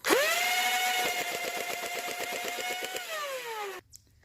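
Modified Nerf Rayven full-auto dart blaster firing a 12-round magazine downrange, a rapid whirring motor spin-up with a fast mechanical rattle of darts for about three seconds, then winding down.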